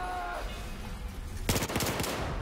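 Rapid bursts of gunfire from a first-person shooter, Battlefield 4, set in the South China Sea, erupt suddenly midway as a dense string of close, loud shots after a quieter stretch.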